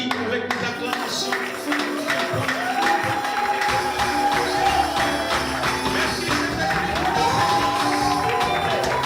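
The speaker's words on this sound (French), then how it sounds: "Voilà pourquoi cet après-midi nous t'accueillons avec des cris, avec des acclamations" A church congregation welcomes someone with loud, continuous shouting and cheering, many voices overlapping with scattered clapping and a sustained crowd roar throughout.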